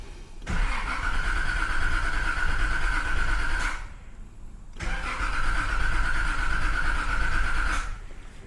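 Nissan Z car engine cranking without firing, two long starter bursts of about three seconds each, separated by a short pause, loud and close with no voices.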